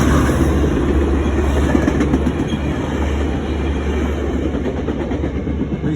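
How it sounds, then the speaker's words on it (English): A train rumbles past nearby in a parking lot, a steady loud low roar with faint clickety-clack of rail cars running throughout. "here comes another train"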